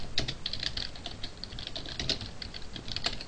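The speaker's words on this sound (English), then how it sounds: "can't talk and type at the same time" Rapid typing on a computer keyboard: a steady stream of light, close key clicks at an even, brisk pace, with no voice.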